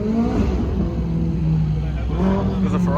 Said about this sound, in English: Now the supercars are pulling up.